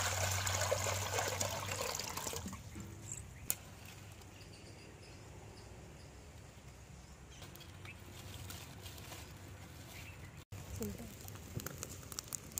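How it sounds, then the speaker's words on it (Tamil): Water pours steadily into a cooking pot being readied for boiling eggs in a home kitchen, a rushing trickle that is loudest at the start and then continues softer and constant, close by, with no talk over it. "முட்டையை வேக வைக்கிறதுக்கு தண்ணி ஊத்திக்கலாம்."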